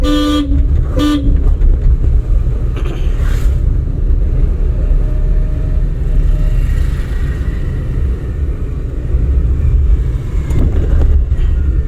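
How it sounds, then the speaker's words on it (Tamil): Steady loud engine rumble from a driving-school car with a short burst of horn honks near the start and faint traffic noise throughout. "ஹார்ன் வச்சுருக்கோம்."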